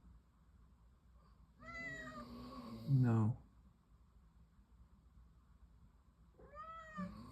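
A house cat meows a few times nearby in a quiet room, one longer drawn-out cry with a louder rise and a shorter meow a few seconds later, under faint background hum.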